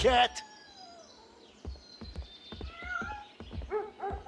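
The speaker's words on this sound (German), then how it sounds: "da ist die Katze" A cat meows several times in the video game A Way Out, short high calls scattered among quiet game sounds, with a person talking over part of it.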